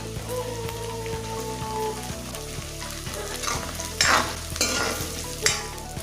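Ginger, chopped green chili and long-sliced onions sauté in a pan for chicken curry, with a steady sizzle and frying hiss under repeated stirring scrapes and a few louder spatula clatters, no talking.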